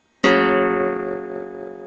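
A single strum across the strings of an acoustic guitar rings out close and loud, then decays slowly over a couple of seconds with no talking, from a lesson on playing Breeze.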